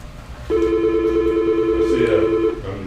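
Office desk phone on a new phone system rings in a county commissioners' meeting room, a loud steady electronic warble held for about two seconds before cutting off, with brief voices at the end.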